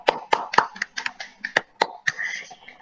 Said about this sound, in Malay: Semua beri tepukan kepada diri sendiri.